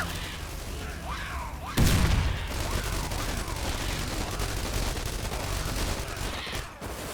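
Defensive turrets in The Walking Trade firing in a dense, continuous barrage of rapid shots, with one heavy boom, all loud and close and sustained to the end.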